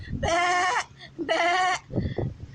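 A very large, healthy, fat goat bleats twice in long, wavering, nasal cries close by, with a few softer low sounds after them and no speech.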